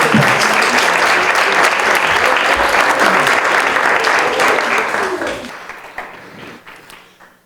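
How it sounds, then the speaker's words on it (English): Loud, full audience applause fills a hall at an evening talk on higher education, holding steady for several seconds before thinning out and fading to a few last scattered claps. "Would you please give everyone a round of applause?"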